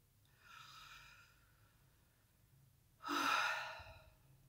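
Two deep exhalations during a guided breathing meditation: a soft, long breath out, then a louder, forceful sigh, close and in otherwise quiet surroundings.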